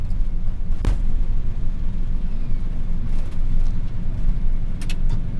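Steady loud rumble inside the cockpit of a National Airlines Boeing 747 climbing out after takeoff, broad engine and airflow noise continuing throughout with a couple of brief clicks.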